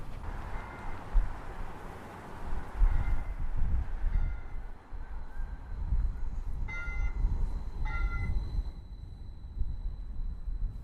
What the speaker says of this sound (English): This is the sound of the Q line, Detroit.